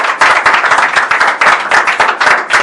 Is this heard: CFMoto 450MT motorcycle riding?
no